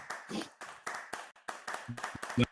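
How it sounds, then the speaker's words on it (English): Hand clapping from a small group at an online artist showcase, a quick uneven run of separate claps with short gaps between them, fairly close and fairly quiet, and one louder clap near the end. "Everybody give him a round of applause."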